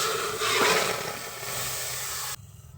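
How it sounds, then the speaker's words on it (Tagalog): Chicken pieces sautéing in their own rendered fat and juices in a pan for a Filipino chicken menudo, a steady close sizzling hiss that swells briefly, then drops away abruptly near the end. "gisahin lang muna natin tong manok sa kanyang sariling mantika"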